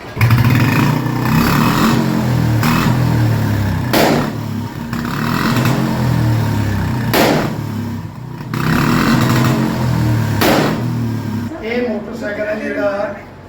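A Royal Enfield Bullet motorcycle engine idles and revs nearby, its throbbing drone rising and falling with sharp backfire-like bursts, then cutting off as a person starts speaking.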